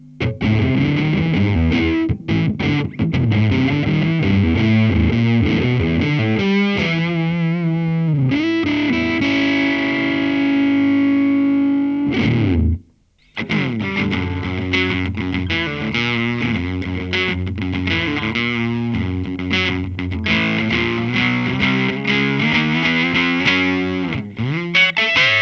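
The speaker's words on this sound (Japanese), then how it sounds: "荒々しくもスムースなファズサウンドを得ることができます" Thick, fuzzy distorted electric guitar through a Supro Fuzz pedal with silicon transistors, riffing and sustained notes, loud and continuous, with a short break midway before the playing resumes.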